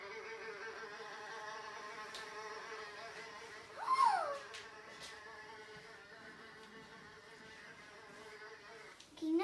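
A fly buzzes softly and continuously with a steady whining drone, swelling louder for a moment as it passes close, then settling back to a faint hum.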